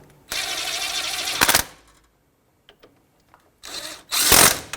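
A power tool spins a 19mm socket to snug caliper bolts on a 2011-2017 Honda Odyssey front brake, with two loud bursts of close whirring separated by a quiet pause.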